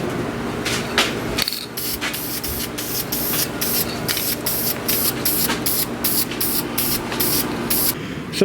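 An aerosol spray can applies paint to an old, abandoned concrete laundry sink, producing close, loud hissing bursts in a rapid series of short sprays and pauses, with no talking.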